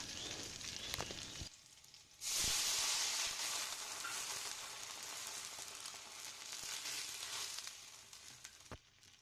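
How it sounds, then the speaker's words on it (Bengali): Jute leaf greens frying in a pan, a steady loud sizzle that flares up sharply as the leaves hit the hot oil, then keeps hissing with a few stirring knocks. "আমি আগে এখন শাকটা রান্না করে নেব"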